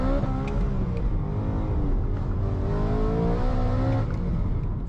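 A 668 bhp supercharged BMW M3 engine revs and accelerates steadily, its pitch climbing through the gears in a loud, continuous drone heard from inside the car.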